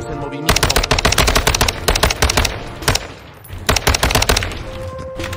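Loud, rapid automatic gunfire in the video game Call of Duty Warzone rattles in dense bursts with brief gaps, close and dominant, with no speech over it.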